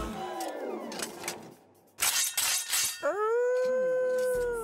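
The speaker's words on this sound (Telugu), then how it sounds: "అదేంటి సార్, శ్మశానంలో కుక్క అరిచినట్టు." Dog howling in a drawn-out, rising and sustained wail near the end, preceded by jumbled louder sounds and a noisy burst; fairly close and loud, with no talk over it.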